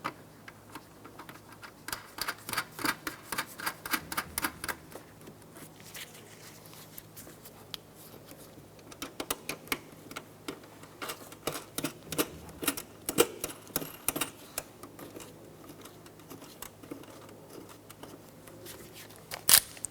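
Ratchet clicks from an 8mm socket snugging tail light nuts on a 2007-2012 Nissan Altima, coming in close quiet bursts of rapid ticking separated by brief pauses.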